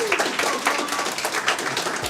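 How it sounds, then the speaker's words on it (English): A graduation audience claps in a brief, moderately loud round of applause, scattered hand claps filling the hall with some voices mixed in. "So give him another round of applause."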